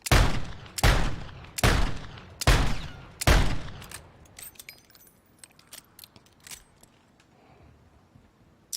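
Five heavy, evenly spaced gunshots from the Basilisk in Modern Warfare 3, aiming down sights, each booming with a long tail, followed by quieter scattered clicks and distant game sounds, with no talking.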